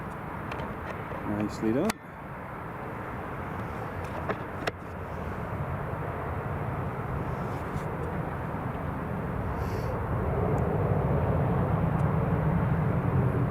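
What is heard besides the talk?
EasyJet airliner taking off and climbing away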